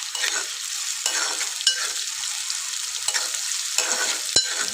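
Onions fry with mustard and cumin seeds in hot oil, a bright crackling sizzle that swells and fades with repeated stirring strokes and one sharp utensil tap, close and without speech.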